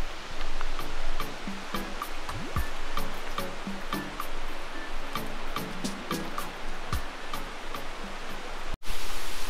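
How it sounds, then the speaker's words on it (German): A huge waterfall at Plitvice Lakes roars as a loud, steady rush of falling water, close and continuous throughout, with brief clicks and knocks on top. "jetzt ist ein bisschen laut, weil hier ist ein riesen Wasserfall"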